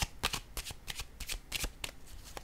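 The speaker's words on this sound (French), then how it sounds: "Je vais déposer une carte sur celle-ci." Tarot cards slide and slap against each other, a quick series of about eight crisp card sounds in a steady rhythm, close and clear with no talking.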